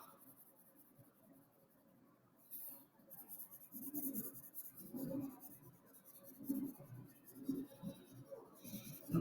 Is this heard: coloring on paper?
yes